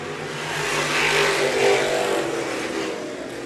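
Race car at the Dean Smith Memorial racing on a track, a loud engine roar that swells and fades as cars pass, with a broad noisy wash of sound and no voices over it.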